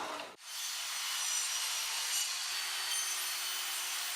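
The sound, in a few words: sliding table of Evolution R255 TBL Plus table saw moving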